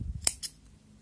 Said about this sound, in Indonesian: ini udah kuat ya kita gunting